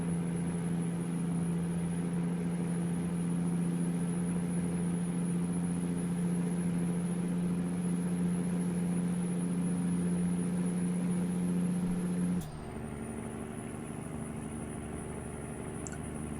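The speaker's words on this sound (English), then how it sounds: "But then I don't like revving the poor engine." A truck engine idling in American Truck Simulator, a steady low drone that holds for a long stretch, then drops abruptly to a quieter, lower hum.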